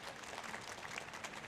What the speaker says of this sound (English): Can we have a round of applause for this first part of the panel?